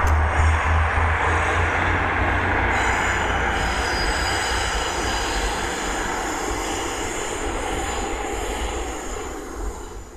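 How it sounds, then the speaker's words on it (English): A train passes close by in Carlisle, giving a loud, steady rumble with high wheel squeal that holds for the whole stretch and fades slightly toward the end, with no talking. "now there's a bloody train"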